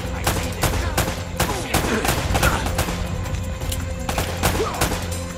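A dense, steady firefight in the video game Uncharted: Drake's Fortune, with rapid overlapping gunshots and automatic bursts cracking continuously and loudly against a rumbling background.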